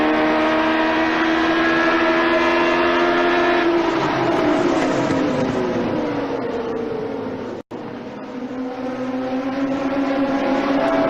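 IndyCar race car engines scream at high revs and bounce off the rev limiter, with a sustained, loud, harmonic whine that drops in pitch as a car passes and then climbs again.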